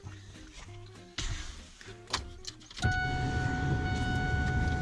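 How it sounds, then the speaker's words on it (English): An old truck's engine cranks with a few clunks and then catches, settling into a steady, close idle rumble with a whining tone on top. "we'll get the old truck fired up"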